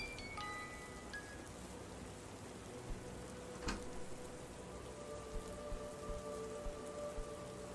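Steady rain falls in the video game Gray Dawn, a dense even hiss of drops on surfaces that persists throughout with a few louder patters, alone with no talk.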